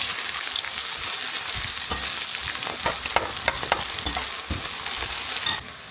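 Onions fry in hot oil with a steady crackling sizzle, broken by scattered clicks and scrapes of stirring, and the sizzle drops off abruptly near the end.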